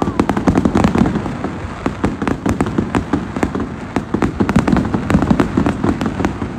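Large fireworks burst in rapid succession, sharp loud cracks and pops coming in dense irregular clusters, with faint voices in the background.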